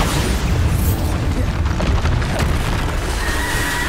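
Explosive Bombarda spell blasts in the Hogwarts Legacy game on PS5, a dense, loud, continuous rumble of booming impacts with a high tonal whine appearing near the end.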